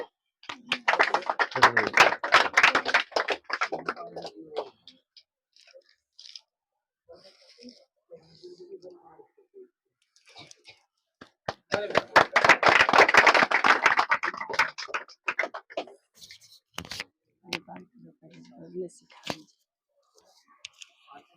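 A school audience applauds a student, two bursts of clapping, each several seconds long, with quiet gaps and scattered speech between them.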